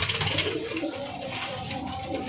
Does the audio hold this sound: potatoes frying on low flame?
no